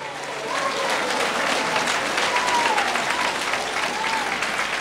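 A church congregation claps loudly and continuously in a sustained wash of applause, with a faint voice calling out over it.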